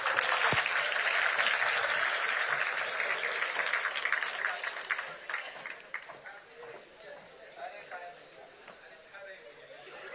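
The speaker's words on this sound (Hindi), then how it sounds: "बहुत जोरदार तालियां।" Loud, sustained applause from a large audience at a TV9 Network event attended by Pandit Dhirendra Krishna Shastri of Bageshwar Dham. It swells at first, then thins toward scattered claps and crowd noise.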